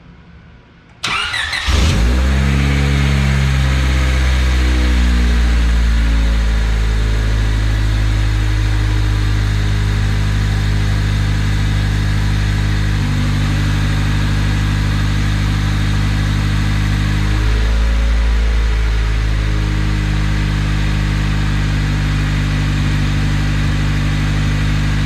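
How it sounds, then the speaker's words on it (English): A Honda Civic EK cranks briefly and starts, then settles into a loud, steady idle close by with a slight shift in pitch partway through, with no voices heard. "So let's go ahead and start the car, make sure that it actually starts"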